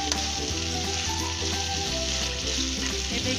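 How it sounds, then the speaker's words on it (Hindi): Spice masala for a jackfruit curry sizzles and fries in hot oil, a dense, steady crackling close up with faint stirring underneath and no talk. "अच्छे से भूनेंगे मसाले को।"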